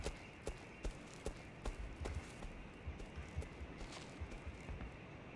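Faint, distant footsteps in the horror game Cry of Fear, set in a dark forest: a steady run of soft thuds repeating about every half second under a constant hiss of ambient noise.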